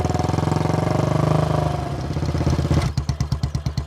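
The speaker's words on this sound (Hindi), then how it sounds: "अच्छा सुन, बाइक यहीं पार्क कर दे और अंदर चल ले।" A motorcycle engine idles close by with a fast, even putter that slows into distinct, spaced chugs toward the end.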